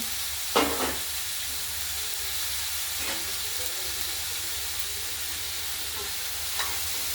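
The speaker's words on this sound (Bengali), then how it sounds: "বাঁধাকপিগুলো দিয়ে দিলাম, এবার নাড়বো চাড়বো।" Cabbage stir-fries in a pan with a constant hissing sizzle, broken by a few scraping stirs of the spatula.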